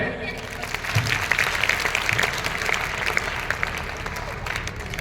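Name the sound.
audience applauding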